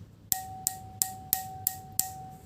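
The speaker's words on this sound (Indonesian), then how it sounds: "hanya dengan mengetukkan pensil ke gelas. Gelas yang pertama yaitu gelas yang diisi oleh 3/4 air" A pencil taps a drinking glass filled three-quarters with water, six evenly spaced sharp clinks, each leaving a short ringing tone, close and clear with no talking.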